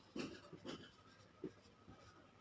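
Pen scratching across paper in a few short strokes during a Class 10 maths lesson on cone problems, close and fairly quiet, with faint room noise between strokes.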